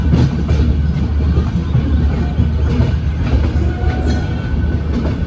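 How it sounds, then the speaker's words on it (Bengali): Inside the Swarna Shatabdi Express as it departs Amritsar, a steady, loud, low rumble of the rolling train runs throughout with faint rhythmic wheel clatter and no talking. "একদম রাইট টাইম 4:50 ট্রেন ছেড়ে দিয়ে আমরা অমৃতসর ছাড়লাম।"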